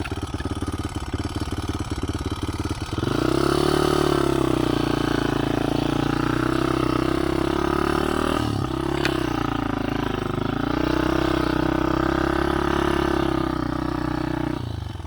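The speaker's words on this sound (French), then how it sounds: "Marche très bien ce moteur." A Honda CRZ 125 motorcycle in very poor condition running: a rough, uneven idle at first, then the engine revs up into a loud, steady buzzing drone with slight rises and dips, close and alone.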